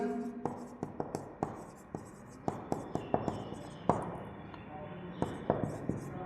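Chalk or marker strokes on a board tap and scrape in short, irregular bursts during a Class 10 biology lesson, sitting under a steady low background.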